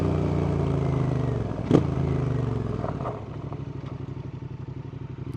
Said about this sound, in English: I don't know if you heard the bike decide to lock the front tyre a little bit there